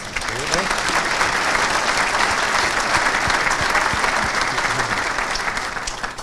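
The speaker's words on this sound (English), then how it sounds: "Let's give them a big round of applause." Sustained applause from a sizable crowd at a governor's luncheon, dense and even for several seconds, tapering slightly at the end.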